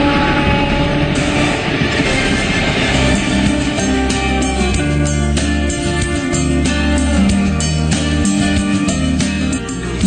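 A train pulls into a station, a steady loud rumble of rolling wagons with rail clatter throughout, no voices.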